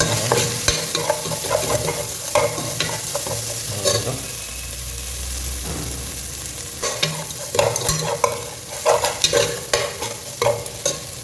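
Green chillies crackle and sizzle in a pan, with a steady frying hiss broken by clusters of sharp scraping stir strokes, close and fairly loud, no voices.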